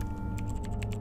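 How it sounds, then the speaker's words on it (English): Rapid, hammering keystrokes from fingers pounding a keyboard in the video game Unavowed, close and dense for a second over a steady low background hum. "His fingers bang over the keyboard like they're possessed"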